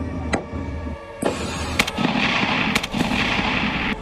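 Gunfire from Pakistani army and police firing directly on Baloch people, heard as several sharp cracks spread across the clip over a steady background rumble.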